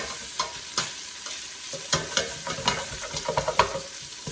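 About three strips of bacon fry in a pot as the fat renders, a steady close sizzle broken by repeated scraping stir strokes and small pops.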